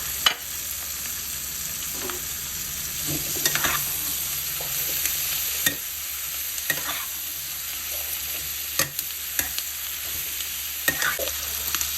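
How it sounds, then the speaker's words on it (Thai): Bacon and onions stir-frying in a pan fill the clip with a steady close sizzle, broken by repeated scrapes and clacks of a utensil stirring against the pan, with no voices. "เอาเบคอนลงไปผัดด้วยนะคะ"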